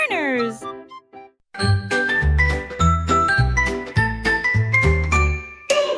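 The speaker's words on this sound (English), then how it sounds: "Ding-a-ling, the school bell rings." A bright chiming jingle rings out in a bouncy nursery rhyme for kids, sounding as a school bell, with repeated tinkling tones over a full, steady backing of music and singing.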